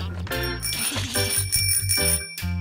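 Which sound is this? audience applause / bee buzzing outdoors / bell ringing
bell ringing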